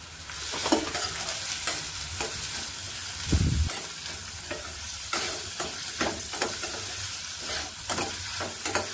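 Onion frying in a little oil for a ghevda bean curry, a steady close sizzle broken by regular scraping stirs of a spoon in the pan.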